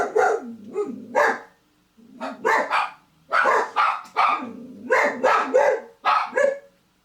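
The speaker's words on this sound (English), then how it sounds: "I apologise if my dogs bark at all during this." Dogs, including a German Shepherd, bark repeatedly and loudly nearby, in uneven runs of several barks with brief gaps, some sharper yips among the deeper barks.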